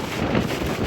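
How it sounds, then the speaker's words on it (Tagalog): Strong wind buffets the microphone at the Bangui windmills in Ilocos Norte, a steady, loud broadband roar lasting under a second with no other sounds standing out. "Grabe, ang lakas ng hangin."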